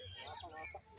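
A goose at Zoo Lake in Johannesburg gives a brief, close honking call, faint and nasal, lasting about a second.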